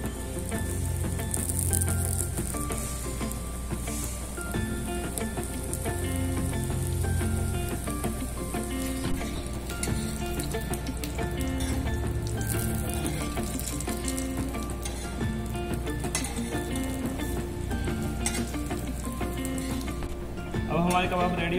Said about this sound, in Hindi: अब हम इसे सूजी से कोटिंग करेंगे और सैलो फ्राई करेंगे।